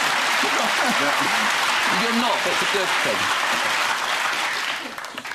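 Studio audience on a British satirical news panel show clapping over election results, a dense sustained wash of applause that tapers off near the end, with voices talking over it.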